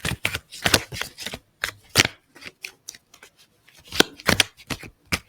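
Tarot cards riffled and shuffled by hand in a series of crisp, close bursts of papery flutter, separated by short pauses, with no talking.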